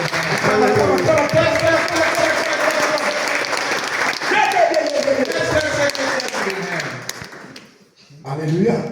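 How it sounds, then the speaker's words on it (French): A church congregation claps together in praise, a dense, loud wash of applause carrying on under singing and spoken voices before dipping briefly near the end. "Klatsch für den Herrn."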